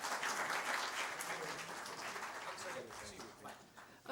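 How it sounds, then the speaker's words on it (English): Applause from an audience at a conference session on cost reduction for electric vehicle batteries, a dense wash of clapping that stays steady and fairly loud for about four seconds, then swells briefly at the end. "Please give them a big round of applause."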